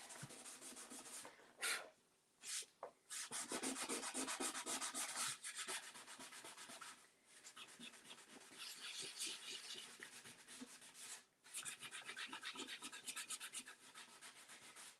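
Card edges being rubbed with a clear sheet during a painting and craft session: steady, close scraping and rubbing strokes that sound papery, broken by a few brief pauses, with no talking.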